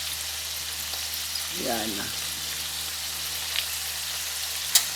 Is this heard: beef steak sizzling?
yes